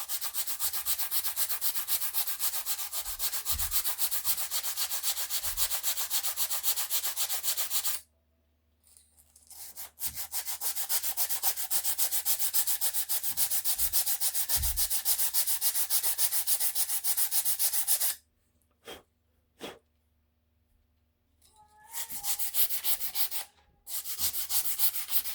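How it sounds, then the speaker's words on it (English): A wooden axe wedge is sanded by hand with sandpaper, giving long runs of steady, close scratchy rubbing that break off in short pauses and then start again. "So I'm just going to take the sandpaper."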